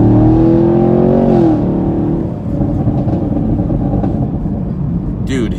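A 2019 Chevrolet Camaro 2SS under acceleration, its exhaust giving a loud, close engine roar that rises and then holds steady, with a brief sharp crack near the end.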